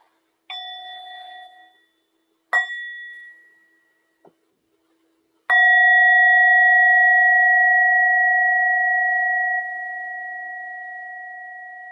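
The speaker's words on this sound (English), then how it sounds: "Can bring yourself slowly back into the room with the sound of the bell." A meditation bell is struck several times: two short bright strikes, a tiny tap, then a final clear ring that sustains and slowly fades over about six seconds in a quiet room.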